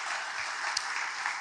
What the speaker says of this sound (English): If we get one final round of applause for all of our presenters today.